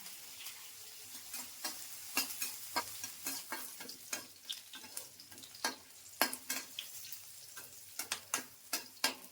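Onions and chillies fry in a little oil with panch phoron in a pan, with a soft sizzle under repeated scraping stirs that come in quick irregular strokes, close by and without talk.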